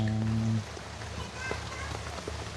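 Steady rain falls on a rural plot of land, a continuous soft patter heard alone after a brief low hum at the start fades away.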